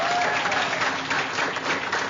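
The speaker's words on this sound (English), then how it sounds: "Give a round of applause." A crowd applauds steadily, dense clapping that holds at an even level throughout with no break.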